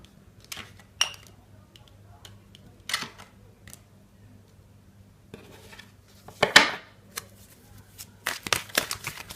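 Tarot cards are shuffled and handled in quiet bursts of quick, crisp riffling and slapping, with pauses between them. The sounds are close and moderately loud.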